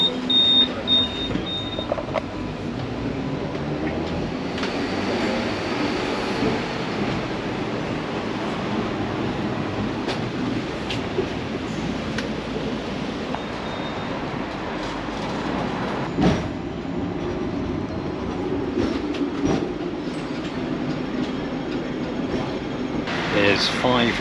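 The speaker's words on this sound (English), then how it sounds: "I'll get on this second tram here, go upstairs" A Hong Kong tram rumbles and clatters along its rails with a steady mechanical drone, sharp clicks and occasional squeals, while people talk throughout.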